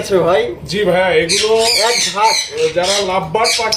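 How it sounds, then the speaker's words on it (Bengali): Harsh, repeated squawks and chatter of lovebirds, including blue lovebirds, loud and close, overlapping in a busy flock with no pause. "এগুলো হচ্ছে পার ব্লু লাভবার্ড পাখি"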